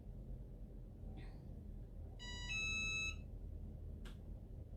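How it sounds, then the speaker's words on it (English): A Cricut EasyPress heat press sounds a short electronic ready beep, a steady multi-tone chirp lasting about a second, fairly faint over low room hum with small clicks around it. "that beep is just telling me that it is ready"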